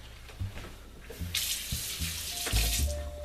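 Tap water runs into a sink for a quick rinse during pizza preparation, a steady close splashing stream with a few knocks and clunks of items being handled.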